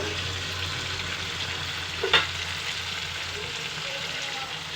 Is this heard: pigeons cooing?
no